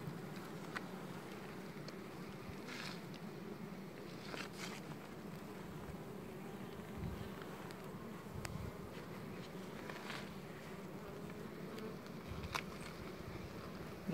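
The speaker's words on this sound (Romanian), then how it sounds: "Toate albinele au venit acolo să o ajute pe aia." Honey bees buzzing around beehive frames while splitting a colony, a dense, steady hum throughout with occasional louder bees passing close by.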